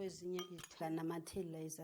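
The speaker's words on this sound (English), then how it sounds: "Add this to the dry ingredients and mix everything together." Utensil scraping and clinking against a bowl in quick repeated strokes, close and fairly quiet, like batter being stirred.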